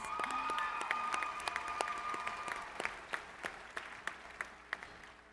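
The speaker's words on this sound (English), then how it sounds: "Let's give them a round of applause." An audience at the Iowa FFA State Leadership Conference general session applauds the New Hampton FFA chapter team, a dense wash of clapping that thins out into scattered individual claps over several seconds.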